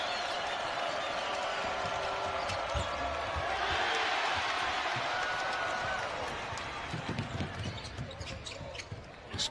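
Crowd roar swells through a college basketball arena during an Iowa State NCAA game, sustained and loud under commentators' talk, with sneaker squeaks and a bouncing ball also audible.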